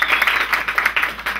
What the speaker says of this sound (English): Arthur, come up here, and they'll give you a round of applause.